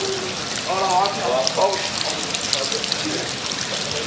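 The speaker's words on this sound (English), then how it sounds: "halfway housemates must shower outside using a bike to pump the water" Water splashes and trickles steadily from an outdoor shower fed by a bike-powered pump, with brief voices talking over the running water early on.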